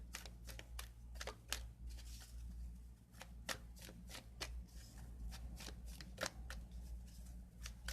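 Tight tarot cards being shuffled, a steady run of crisp riffling snaps and flutters close up, alone without talk.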